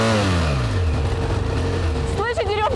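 A BMW police motorcycle's engine revs and climbs in pitch for a couple of seconds, loud and close, before a voice begins speaking.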